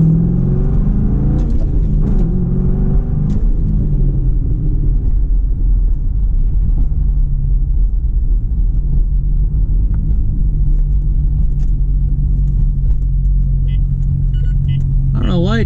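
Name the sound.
car driving and shifting through gears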